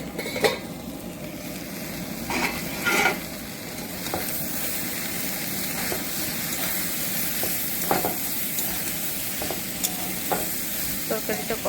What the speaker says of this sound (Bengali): তরকারিটা কষানো হয়ে গেছে প্রায়